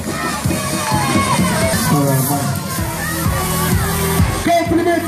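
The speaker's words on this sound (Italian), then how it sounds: "Un applauso anche alle altre squadre che si sono impegnate." Applause and cheering ring out for the competing teams at an Italian summer camp's 2014 awards, a loud, dense crowd with children shouting, while an announcer speaks over the noise.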